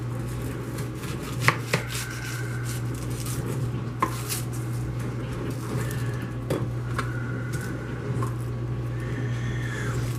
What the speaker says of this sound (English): cut both ends off of your onion